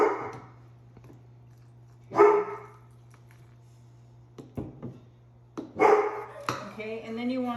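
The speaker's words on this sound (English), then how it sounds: "Excuse the noise from the dogs" Several dogs bark in short bursts around a backyard raised-bed garden, a few sharp yips standing out over a steady low hum, with someone talking in between the barks.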